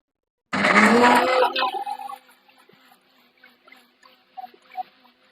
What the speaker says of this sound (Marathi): आता आपला कांदा आणि टोमॅटो असं एकत्र आपल्याला हे वाटून घ्यायचं आहे मिक्सरला